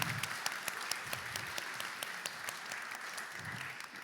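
Guests at an event clap together in a steady, moderate round of applause with distinct individual claps audible in the wash, somewhat distant and quite even throughout.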